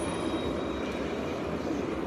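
A tram passes with a steady, fairly faint rolling rumble and rail noise, continuous over a couple of seconds with no talk.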